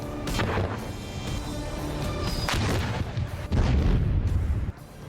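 Heavy artillery booms repeatedly, loud and rumbling, with several blasts in quick succession over a dense background roar.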